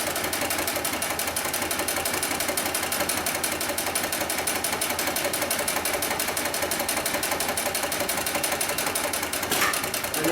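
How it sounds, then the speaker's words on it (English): A heavy-duty industrial sewing machine stitches through four layers of thick webbing, a loud, steady, rapid mechanical chatter running continuously without pause. "then we'll go ahead and sew through 4 layers of this heavy-duty webbing"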